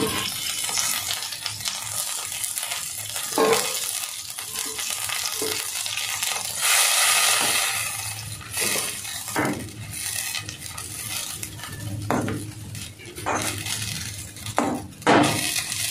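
Butter in a pan over a gas flame melting down for ghee, giving a soft continuous sizzle broken by clinks and scrapes of a spoon against the metal pan, heard close with no talk.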